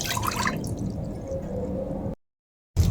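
Water is scooped and poured into a pot for boiling, a wet splashing and trickling pour that runs for about two seconds, then cuts to silence before resuming briefly.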